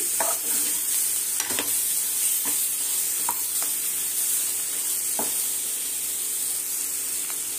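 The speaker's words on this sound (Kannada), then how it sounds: "ಚೆನ್ನಾಗಿ ಒಂದು 2 ನಿಮಿಷ ಹುರ್ಕೊಳ್ಳೋಣ ಇದನ್ನ" Chicken gravy masala for a Mandya-style curry frying in a pan, with a constant close sizzle and hiss broken by periodic scraping strokes of a stirring spoon.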